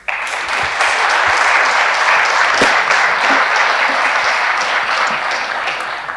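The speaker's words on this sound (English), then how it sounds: "Join me in giving them a round of applause" Audience applause for a panel at a safer gambling conference rises quickly and holds steady and full, many hands clapping in a room with no speech over it.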